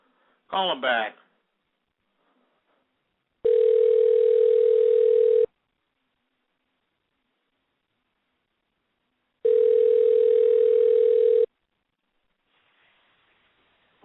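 A telephone ringback tone sounds twice while a call is placed back, each long steady ring lasting about two seconds with a pause between, following a short burst of other sound at the start and otherwise near silence.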